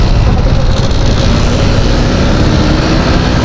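Motorcycle riding, the bike in for repair with a rattling spot; a loud, steady engine and road roar runs continuously throughout, with no talk.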